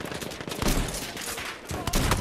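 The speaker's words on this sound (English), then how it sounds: "There's a machine gun." Dense, loud machine gun fire in Battlefield 1 multiplayer, a continuous rattling burst with overlapping shots and booming low end, close and unbroken over the whole stretch.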